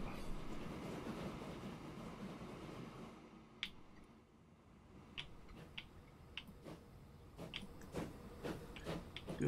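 Train running in the Transport Fever 2 video game, a steady rumbling rail roll with a clickety-clack of wagon wheels over track joints and sharp metallic clicks, continuous and fairly loud throughout.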